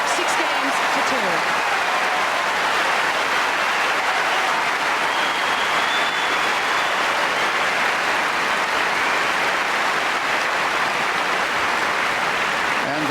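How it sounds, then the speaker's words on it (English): A Wimbledon crowd applauds the end of a set, sustained dense clapping that fills the whole stretch at an even level, with commentary spoken over it. "And the sustained applause for that 32-minute set"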